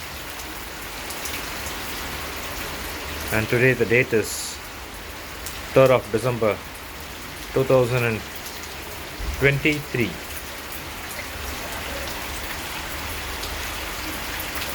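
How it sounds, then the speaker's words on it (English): Heavy rain pours steadily onto a flooded first-floor balcony and private terrace in Chennai, a dense unbroken hiss throughout, while someone speaks in several short phrases over it. "the rain is quite heavy today"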